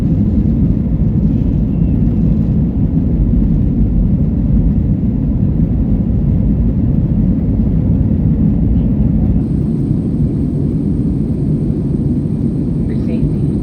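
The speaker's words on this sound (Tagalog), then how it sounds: "Ayan na po ang aeroplano natin." Inside a boarded passenger airplane, a loud steady engine and cabin rumble drones without a break, with a faint high tone entering partway through.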